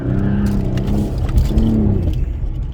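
Car accelerating hard with traction control switched off, wheels briefly spinning; a loud, steady engine roar with rising tonal whine held close throughout.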